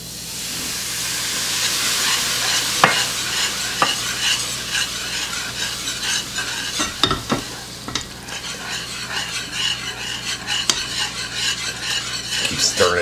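Beer being stirred into cheese dip to work out the clumps: close, repeated scraping and clinking of a utensil against the pot over a steady hiss, with no talking.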